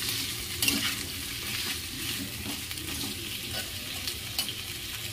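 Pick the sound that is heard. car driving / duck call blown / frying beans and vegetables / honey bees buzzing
frying beans and vegetables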